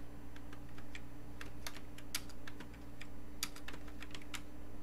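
Computer keyboard being typed on while entering assembly code, a rapid irregular run of light key clicks, close and fairly soft over a steady background hum.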